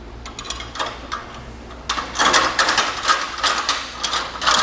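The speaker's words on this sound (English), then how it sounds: "these are going to be tightened down with a 19 millimeter or a 3/4 inch wrench and socket" Trailer bolts on a Malone MegaSport trailer are tightened with a 19 mm wrench and socket, making close, rapid metallic ratcheting clicks that speed up and grow louder toward the end.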